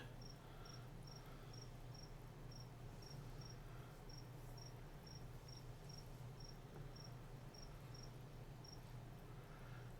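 A real cricket chirps somewhere nearby, making steady evenly spaced pulses of high, thin chirping over a constant low hum of room and game background, with no voices.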